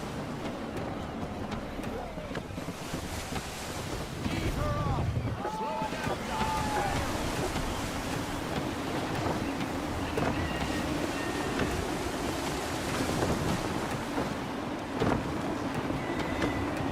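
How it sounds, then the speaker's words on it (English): Gusty wind sweeps across the open sea while a sailing ship moves through Assassin's Creed 3, heard as a constant broadband rush with creaks and faint muffled voices drifting through. "Wind looks to be shifting. Stay alert, Connor. Gusty winds can be difficult to manage."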